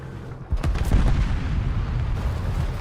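A burst of heavy gunfire from the tank combat game War Thunder kicks in after a brief quiet moment, then holds as a loud, dense, rumbling roar of shots and blasts with no speech.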